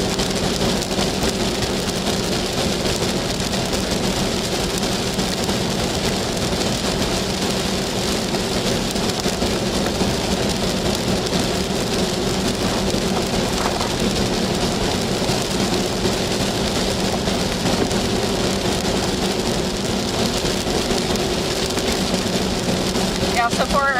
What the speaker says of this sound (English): It is raining a little bit right now.